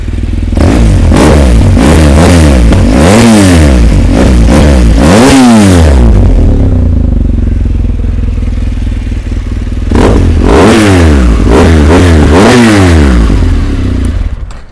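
A 2016 BMW R1200GS Adventure LC motorcycle engine revs up and down repeatedly, loud and close, with a short idle pause in the middle before another series of throttle blips.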